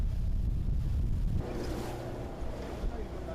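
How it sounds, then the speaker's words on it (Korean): A boat pushing through rough seas in strong wind near Dokdo, a heavy low rumble of wind and water that shifts into a broader rushing wash, loud and continuous, with no talking. "심한 파도와 강한 바람을 헤치고 밤새 달려온 뱃길"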